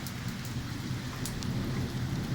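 Heavy rain with a low continuous rolling rumble of thunder during a summer lightning storm in Bath, steady and enveloping with no voices.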